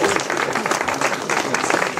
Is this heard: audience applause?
yes